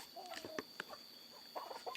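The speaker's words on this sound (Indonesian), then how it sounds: "Kan si ayam pada berisik di sana" Chickens cluck in short, scattered bursts, faint and somewhat distant against a quiet background.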